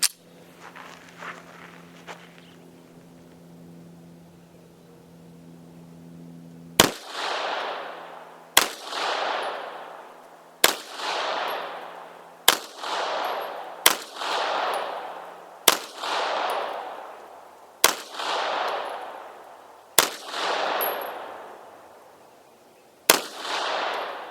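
A Springfield Armory P9L SP pistol, a CZ75 clone, is test fired with Murom Russian primers: about eleven sharp, loud shots spaced a second or two apart, each trailing off in a short echo, with no talking.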